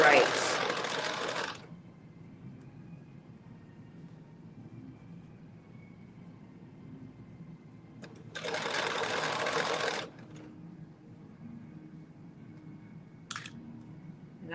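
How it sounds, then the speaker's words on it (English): Sewing machine stitching a bodice made from a Simplicity 8361/8362 pattern, in two loud bursts of steady whirring with a quiet gap between, plus a short final burst near the end. "I'm just stitching around."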